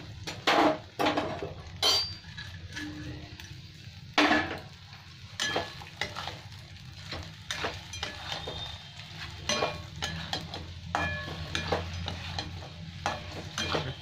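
Eggs go into a pan while dry egg chilli cooks, with a soft sizzle under a series of sharp spoon-and-pan clatters and scrapes, some loud knocks early on and busier stirring later, close and without talk.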